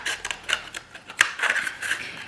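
Scissors snip through cardboard along a template in a string of short, crisp cuts with uneven rhythm, close and fairly quiet, no voices.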